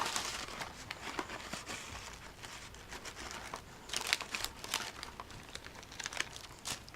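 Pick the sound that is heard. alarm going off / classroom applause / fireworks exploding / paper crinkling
paper crinkling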